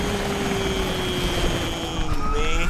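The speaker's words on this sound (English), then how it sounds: "Those choppers should be in range soon." Helicopters arriving in Rise of the Tomb Raider, a steady loud engine and rotor drone with a whining tone that holds throughout.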